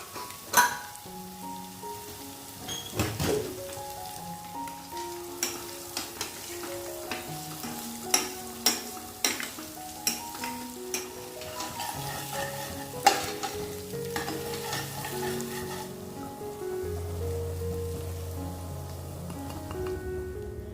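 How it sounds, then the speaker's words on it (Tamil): Onions with ginger garlic paste sizzle and fry in a pan while a spoon stirs them, with repeated scraping clicks against the pan over a steady crackle; no voices. "இதையும் சேர்த்துட்டு நல்லா கலந்து விடுங்க அந்த வெங்காயம் இஞ்சி பூண்டு பேஸ்ட் இதெல்லாம் எந்த அளவுக்கு வதங்கி வருதோ"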